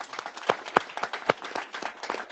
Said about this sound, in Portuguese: Palmas, por favor, pessoal.